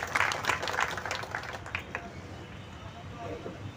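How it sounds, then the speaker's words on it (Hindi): An audience at a Scheduled Caste community gathering in Jind district claps to welcome a speaker, a fairly faint, scattered burst that dies away within a couple of seconds into low background murmur. "जोरदार तालियों से इनका स्वागत करें।"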